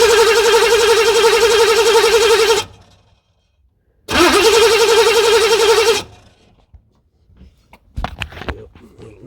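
A C4 Corvette engine cranks in two long, loud bursts of steady starter whirring, each cutting off without the motor catching, followed by faint clicks and handling noises.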